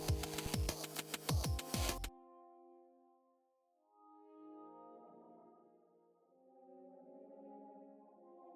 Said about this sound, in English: Let's also chuck a bit of phaser on